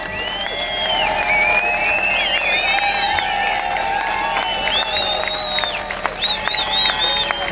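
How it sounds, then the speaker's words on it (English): Live audience applause and cheering at a talk-show event, a dense steady crowd wash with whoops and shouts layered over clapping, loud and continuous throughout. "Can we just have a round of applause for her"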